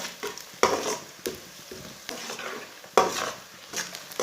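Chopped onion fries in hot oil over medium heat while a utensil stirs it, with a steady close sizzle broken by repeated scraping strokes against the pan.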